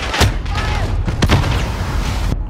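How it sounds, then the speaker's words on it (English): A few heavy booms and thuds from a grenade blast and battle in Call of Duty: Modern Warfare, with sharp bursts early and midway over a steady rumbling background. "Throw a grenade!"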